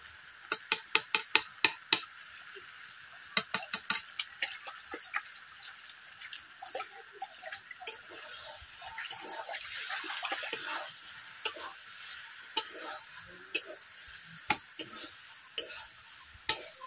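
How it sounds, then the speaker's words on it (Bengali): Green jackfruit stir-fried with butter in a pan: a soft, steady sizzle under repeated sharp clicks of a spatula against the pan, quick runs of taps at first, then sparser strokes, close and fairly quiet. "তার জন্য এঁচোড়টাকে আমি ভালোভাবে কষিয়ে নিচ্ছি।"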